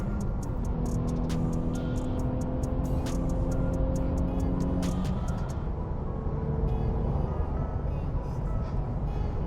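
A Volkswagen Scirocco R races at Spa circuit, heard from inside as a constant loud engine and road roar with a sustained whining tone and rapid clicking bursts, no talking.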